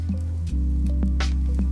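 Footsteps splashing across shallow water in Animal Crossing New Horizons, a few soft squishy drips and splats at an even walking pace, close and clear over a steady low background music drone.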